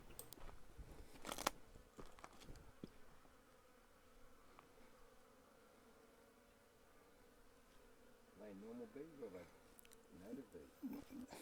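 Faint buzzing of native bees drones in the background outdoors in the Western Australian outback, with scattered clicks and a burst of voices talking near the end.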